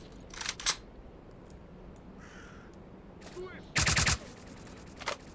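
A few sharp gunshot bursts in S.T.A.L.K.E.R.: Clear Sky, scattered and fairly distant, with a louder cluster of shots near the end over low background noise.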